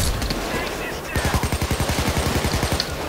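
Rapid automatic gunfire during a Payday 2 heist shootout, a fast even burst of shots lasting about two seconds after a brief lull, close and loud over background game noise.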